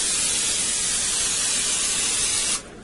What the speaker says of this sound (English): I'm going to go ahead and spray inside of each one of the peppers with some cooking spray.